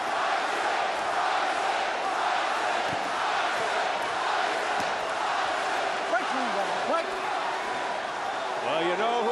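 A large boxing crowd roars steadily throughout a Mike Tyson heavyweight fight, a dense, loud wash of cheering and shouting with people talking in the mix.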